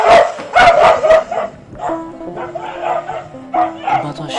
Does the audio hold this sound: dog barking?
yes